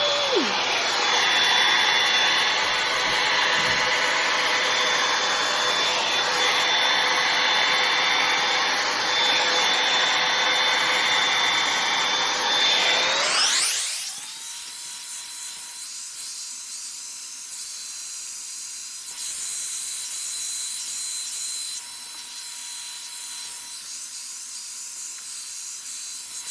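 A Revlon One Step Hair Dryer & Volumizer blows loudly on its high setting with a steady whooshing hiss and motor whine, then drops abruptly about halfway through to a quieter, lower airflow that continues to the end.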